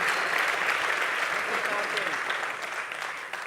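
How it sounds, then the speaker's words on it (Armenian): Applause from an audience welcoming a guest at a club show, a dense sustained round of clapping that holds steady and then tapers slightly toward the end, with voices faintly under it. "իսկ հիմա ծափարում ենք բարձր Արտո Թունջբոյաջյանին"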